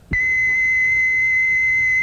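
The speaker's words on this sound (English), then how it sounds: "Listen to the Lipton whistle" A single steady, high-pitched whistle in a Lipton iced tea radio advertisement starts abruptly and holds one unbroken tone for about two seconds, loud and clear.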